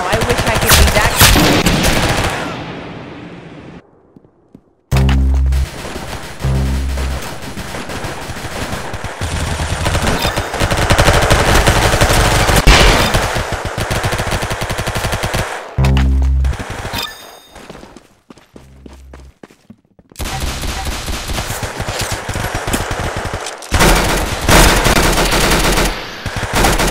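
Rapid automatic gunfire and single shots in a shooter video game, loud and continuous in long bursts broken by a few brief silent gaps.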